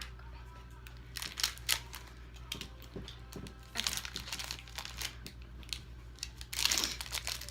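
Crinkling of a toffee candy wrapper being worked open by hand, with bursts of crackling plastic in uneven clusters, fairly close, over a low steady hum.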